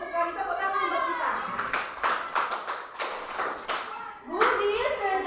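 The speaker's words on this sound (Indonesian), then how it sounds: "Tepuk tangan buat kita." A class of children applauds in a classroom, a burst of hand clapping lasting a couple of seconds, with speech before and after.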